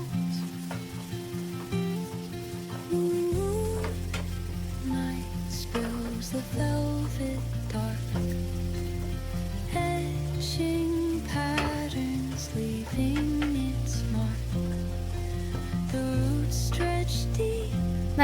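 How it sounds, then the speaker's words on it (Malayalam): Chopped tomatoes and vegetables for chicken shakshuka sizzle steadily in a pan while being stirred, a continuous close frying hiss broken by scraping from the spoon. "എന്നിട്ട് നന്നായിട്ടൊന്ന് മിക്സ് ചെയ്ത് കൊടുക്കുക."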